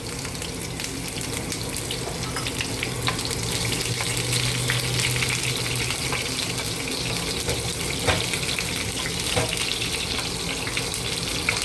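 Onions frying in hot oil while cooking pork chop steak, giving a steady, fairly loud sizzle and crackle that runs throughout without any talking.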